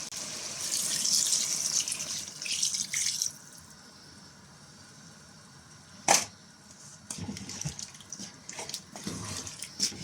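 Tap water runs into a sink while a Dutch oven lamb stew is being cooked, a close hissing splash that stops, followed by a sharp clunk and quieter trickling and handling sounds.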